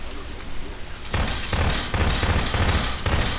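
Rapid bursts of automatic gunfire from a gun in the video game RIOT-ACT, loud and close, coming in a quick repeated series of shots over a steady background rumble.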